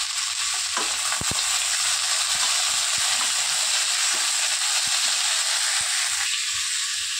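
Vegetables for sabudana khichdi sizzle in hot oil in a pan, a steady close hiss broken by occasional scrapes and clinks of stirring.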